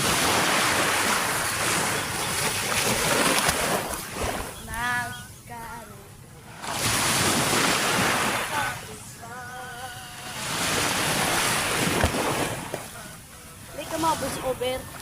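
Ocean waves at a beach surge and wash in broad, roaring swells that rise and fade every few seconds, with wind buffeting the microphone and a voice talking in the gaps.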